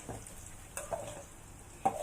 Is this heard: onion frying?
yes